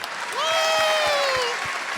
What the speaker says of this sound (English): that's a huge round of applause for that